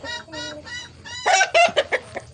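Barred Plymouth Rock and Rhode Island hens cluck in a coop, a run of close, steady clucks that turns into louder, sharper squawks toward the end.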